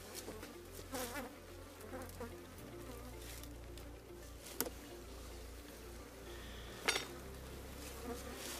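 Honeybees buzz steadily around an opened hive full of honey, a close, continuous droning hum with a few sharp clicks and knocks from handling the frames.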